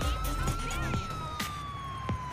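Police siren in the GTA4 video game, a steady wailing tone sweeping slowly downward through the clip, fairly loud, with brief thumps and faint traffic noise behind it.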